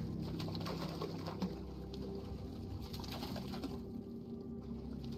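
Cooing pigeons or doves with other birdsong in the VR game Hubris, a steady ambient bed of calls over a constant low background, with no clear single call standing out.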